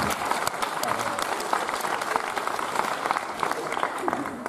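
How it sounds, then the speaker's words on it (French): An audience at a magic show applauds steadily, a dense, even wash of clapping that holds for several seconds, with some crowd noise mixed in. "vous pouvez les applaudir bien fort"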